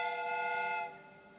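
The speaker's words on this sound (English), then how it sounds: "The steam whistle is ready to be used." Steam whistle in the Sherlock Holmes: Crimes and Punishments game gives one steady, shrill tonal blast that cuts off abruptly after under a second, with no voices.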